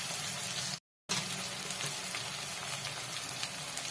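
Garam masala sizzles and fries in a pan for chicken biryani, a steady, dense crackling hiss heard close up throughout, broken by a brief silent gap near the start, with no talk.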